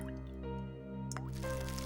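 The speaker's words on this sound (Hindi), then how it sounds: "शायद कुछ टपकने की आवाज आ रही है। शायद लीकेज होगा।" Water dripping from a leak in a crime-drama scene, a few distinct plinking drops spread over a couple of seconds beneath a constant tonal hum.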